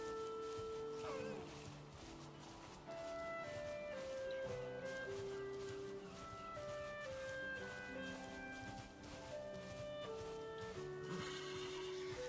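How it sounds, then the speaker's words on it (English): A horse in Valheim, the video game, whinnies repeatedly over rhythmic hoof clops as it trots along, all set against continuous background music. "Come on, horsey, let's go."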